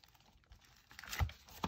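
Paper is scrunched up by hand in a quiet room, giving soft, irregular crinkles and a couple of sharper crackling bursts close by.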